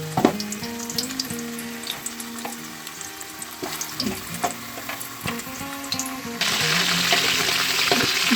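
Mutton trotters crackle and sizzle in hot oil with intermittent stirring clinks and scrapes, then a louder, denser hiss of frying toward the end, heard up close.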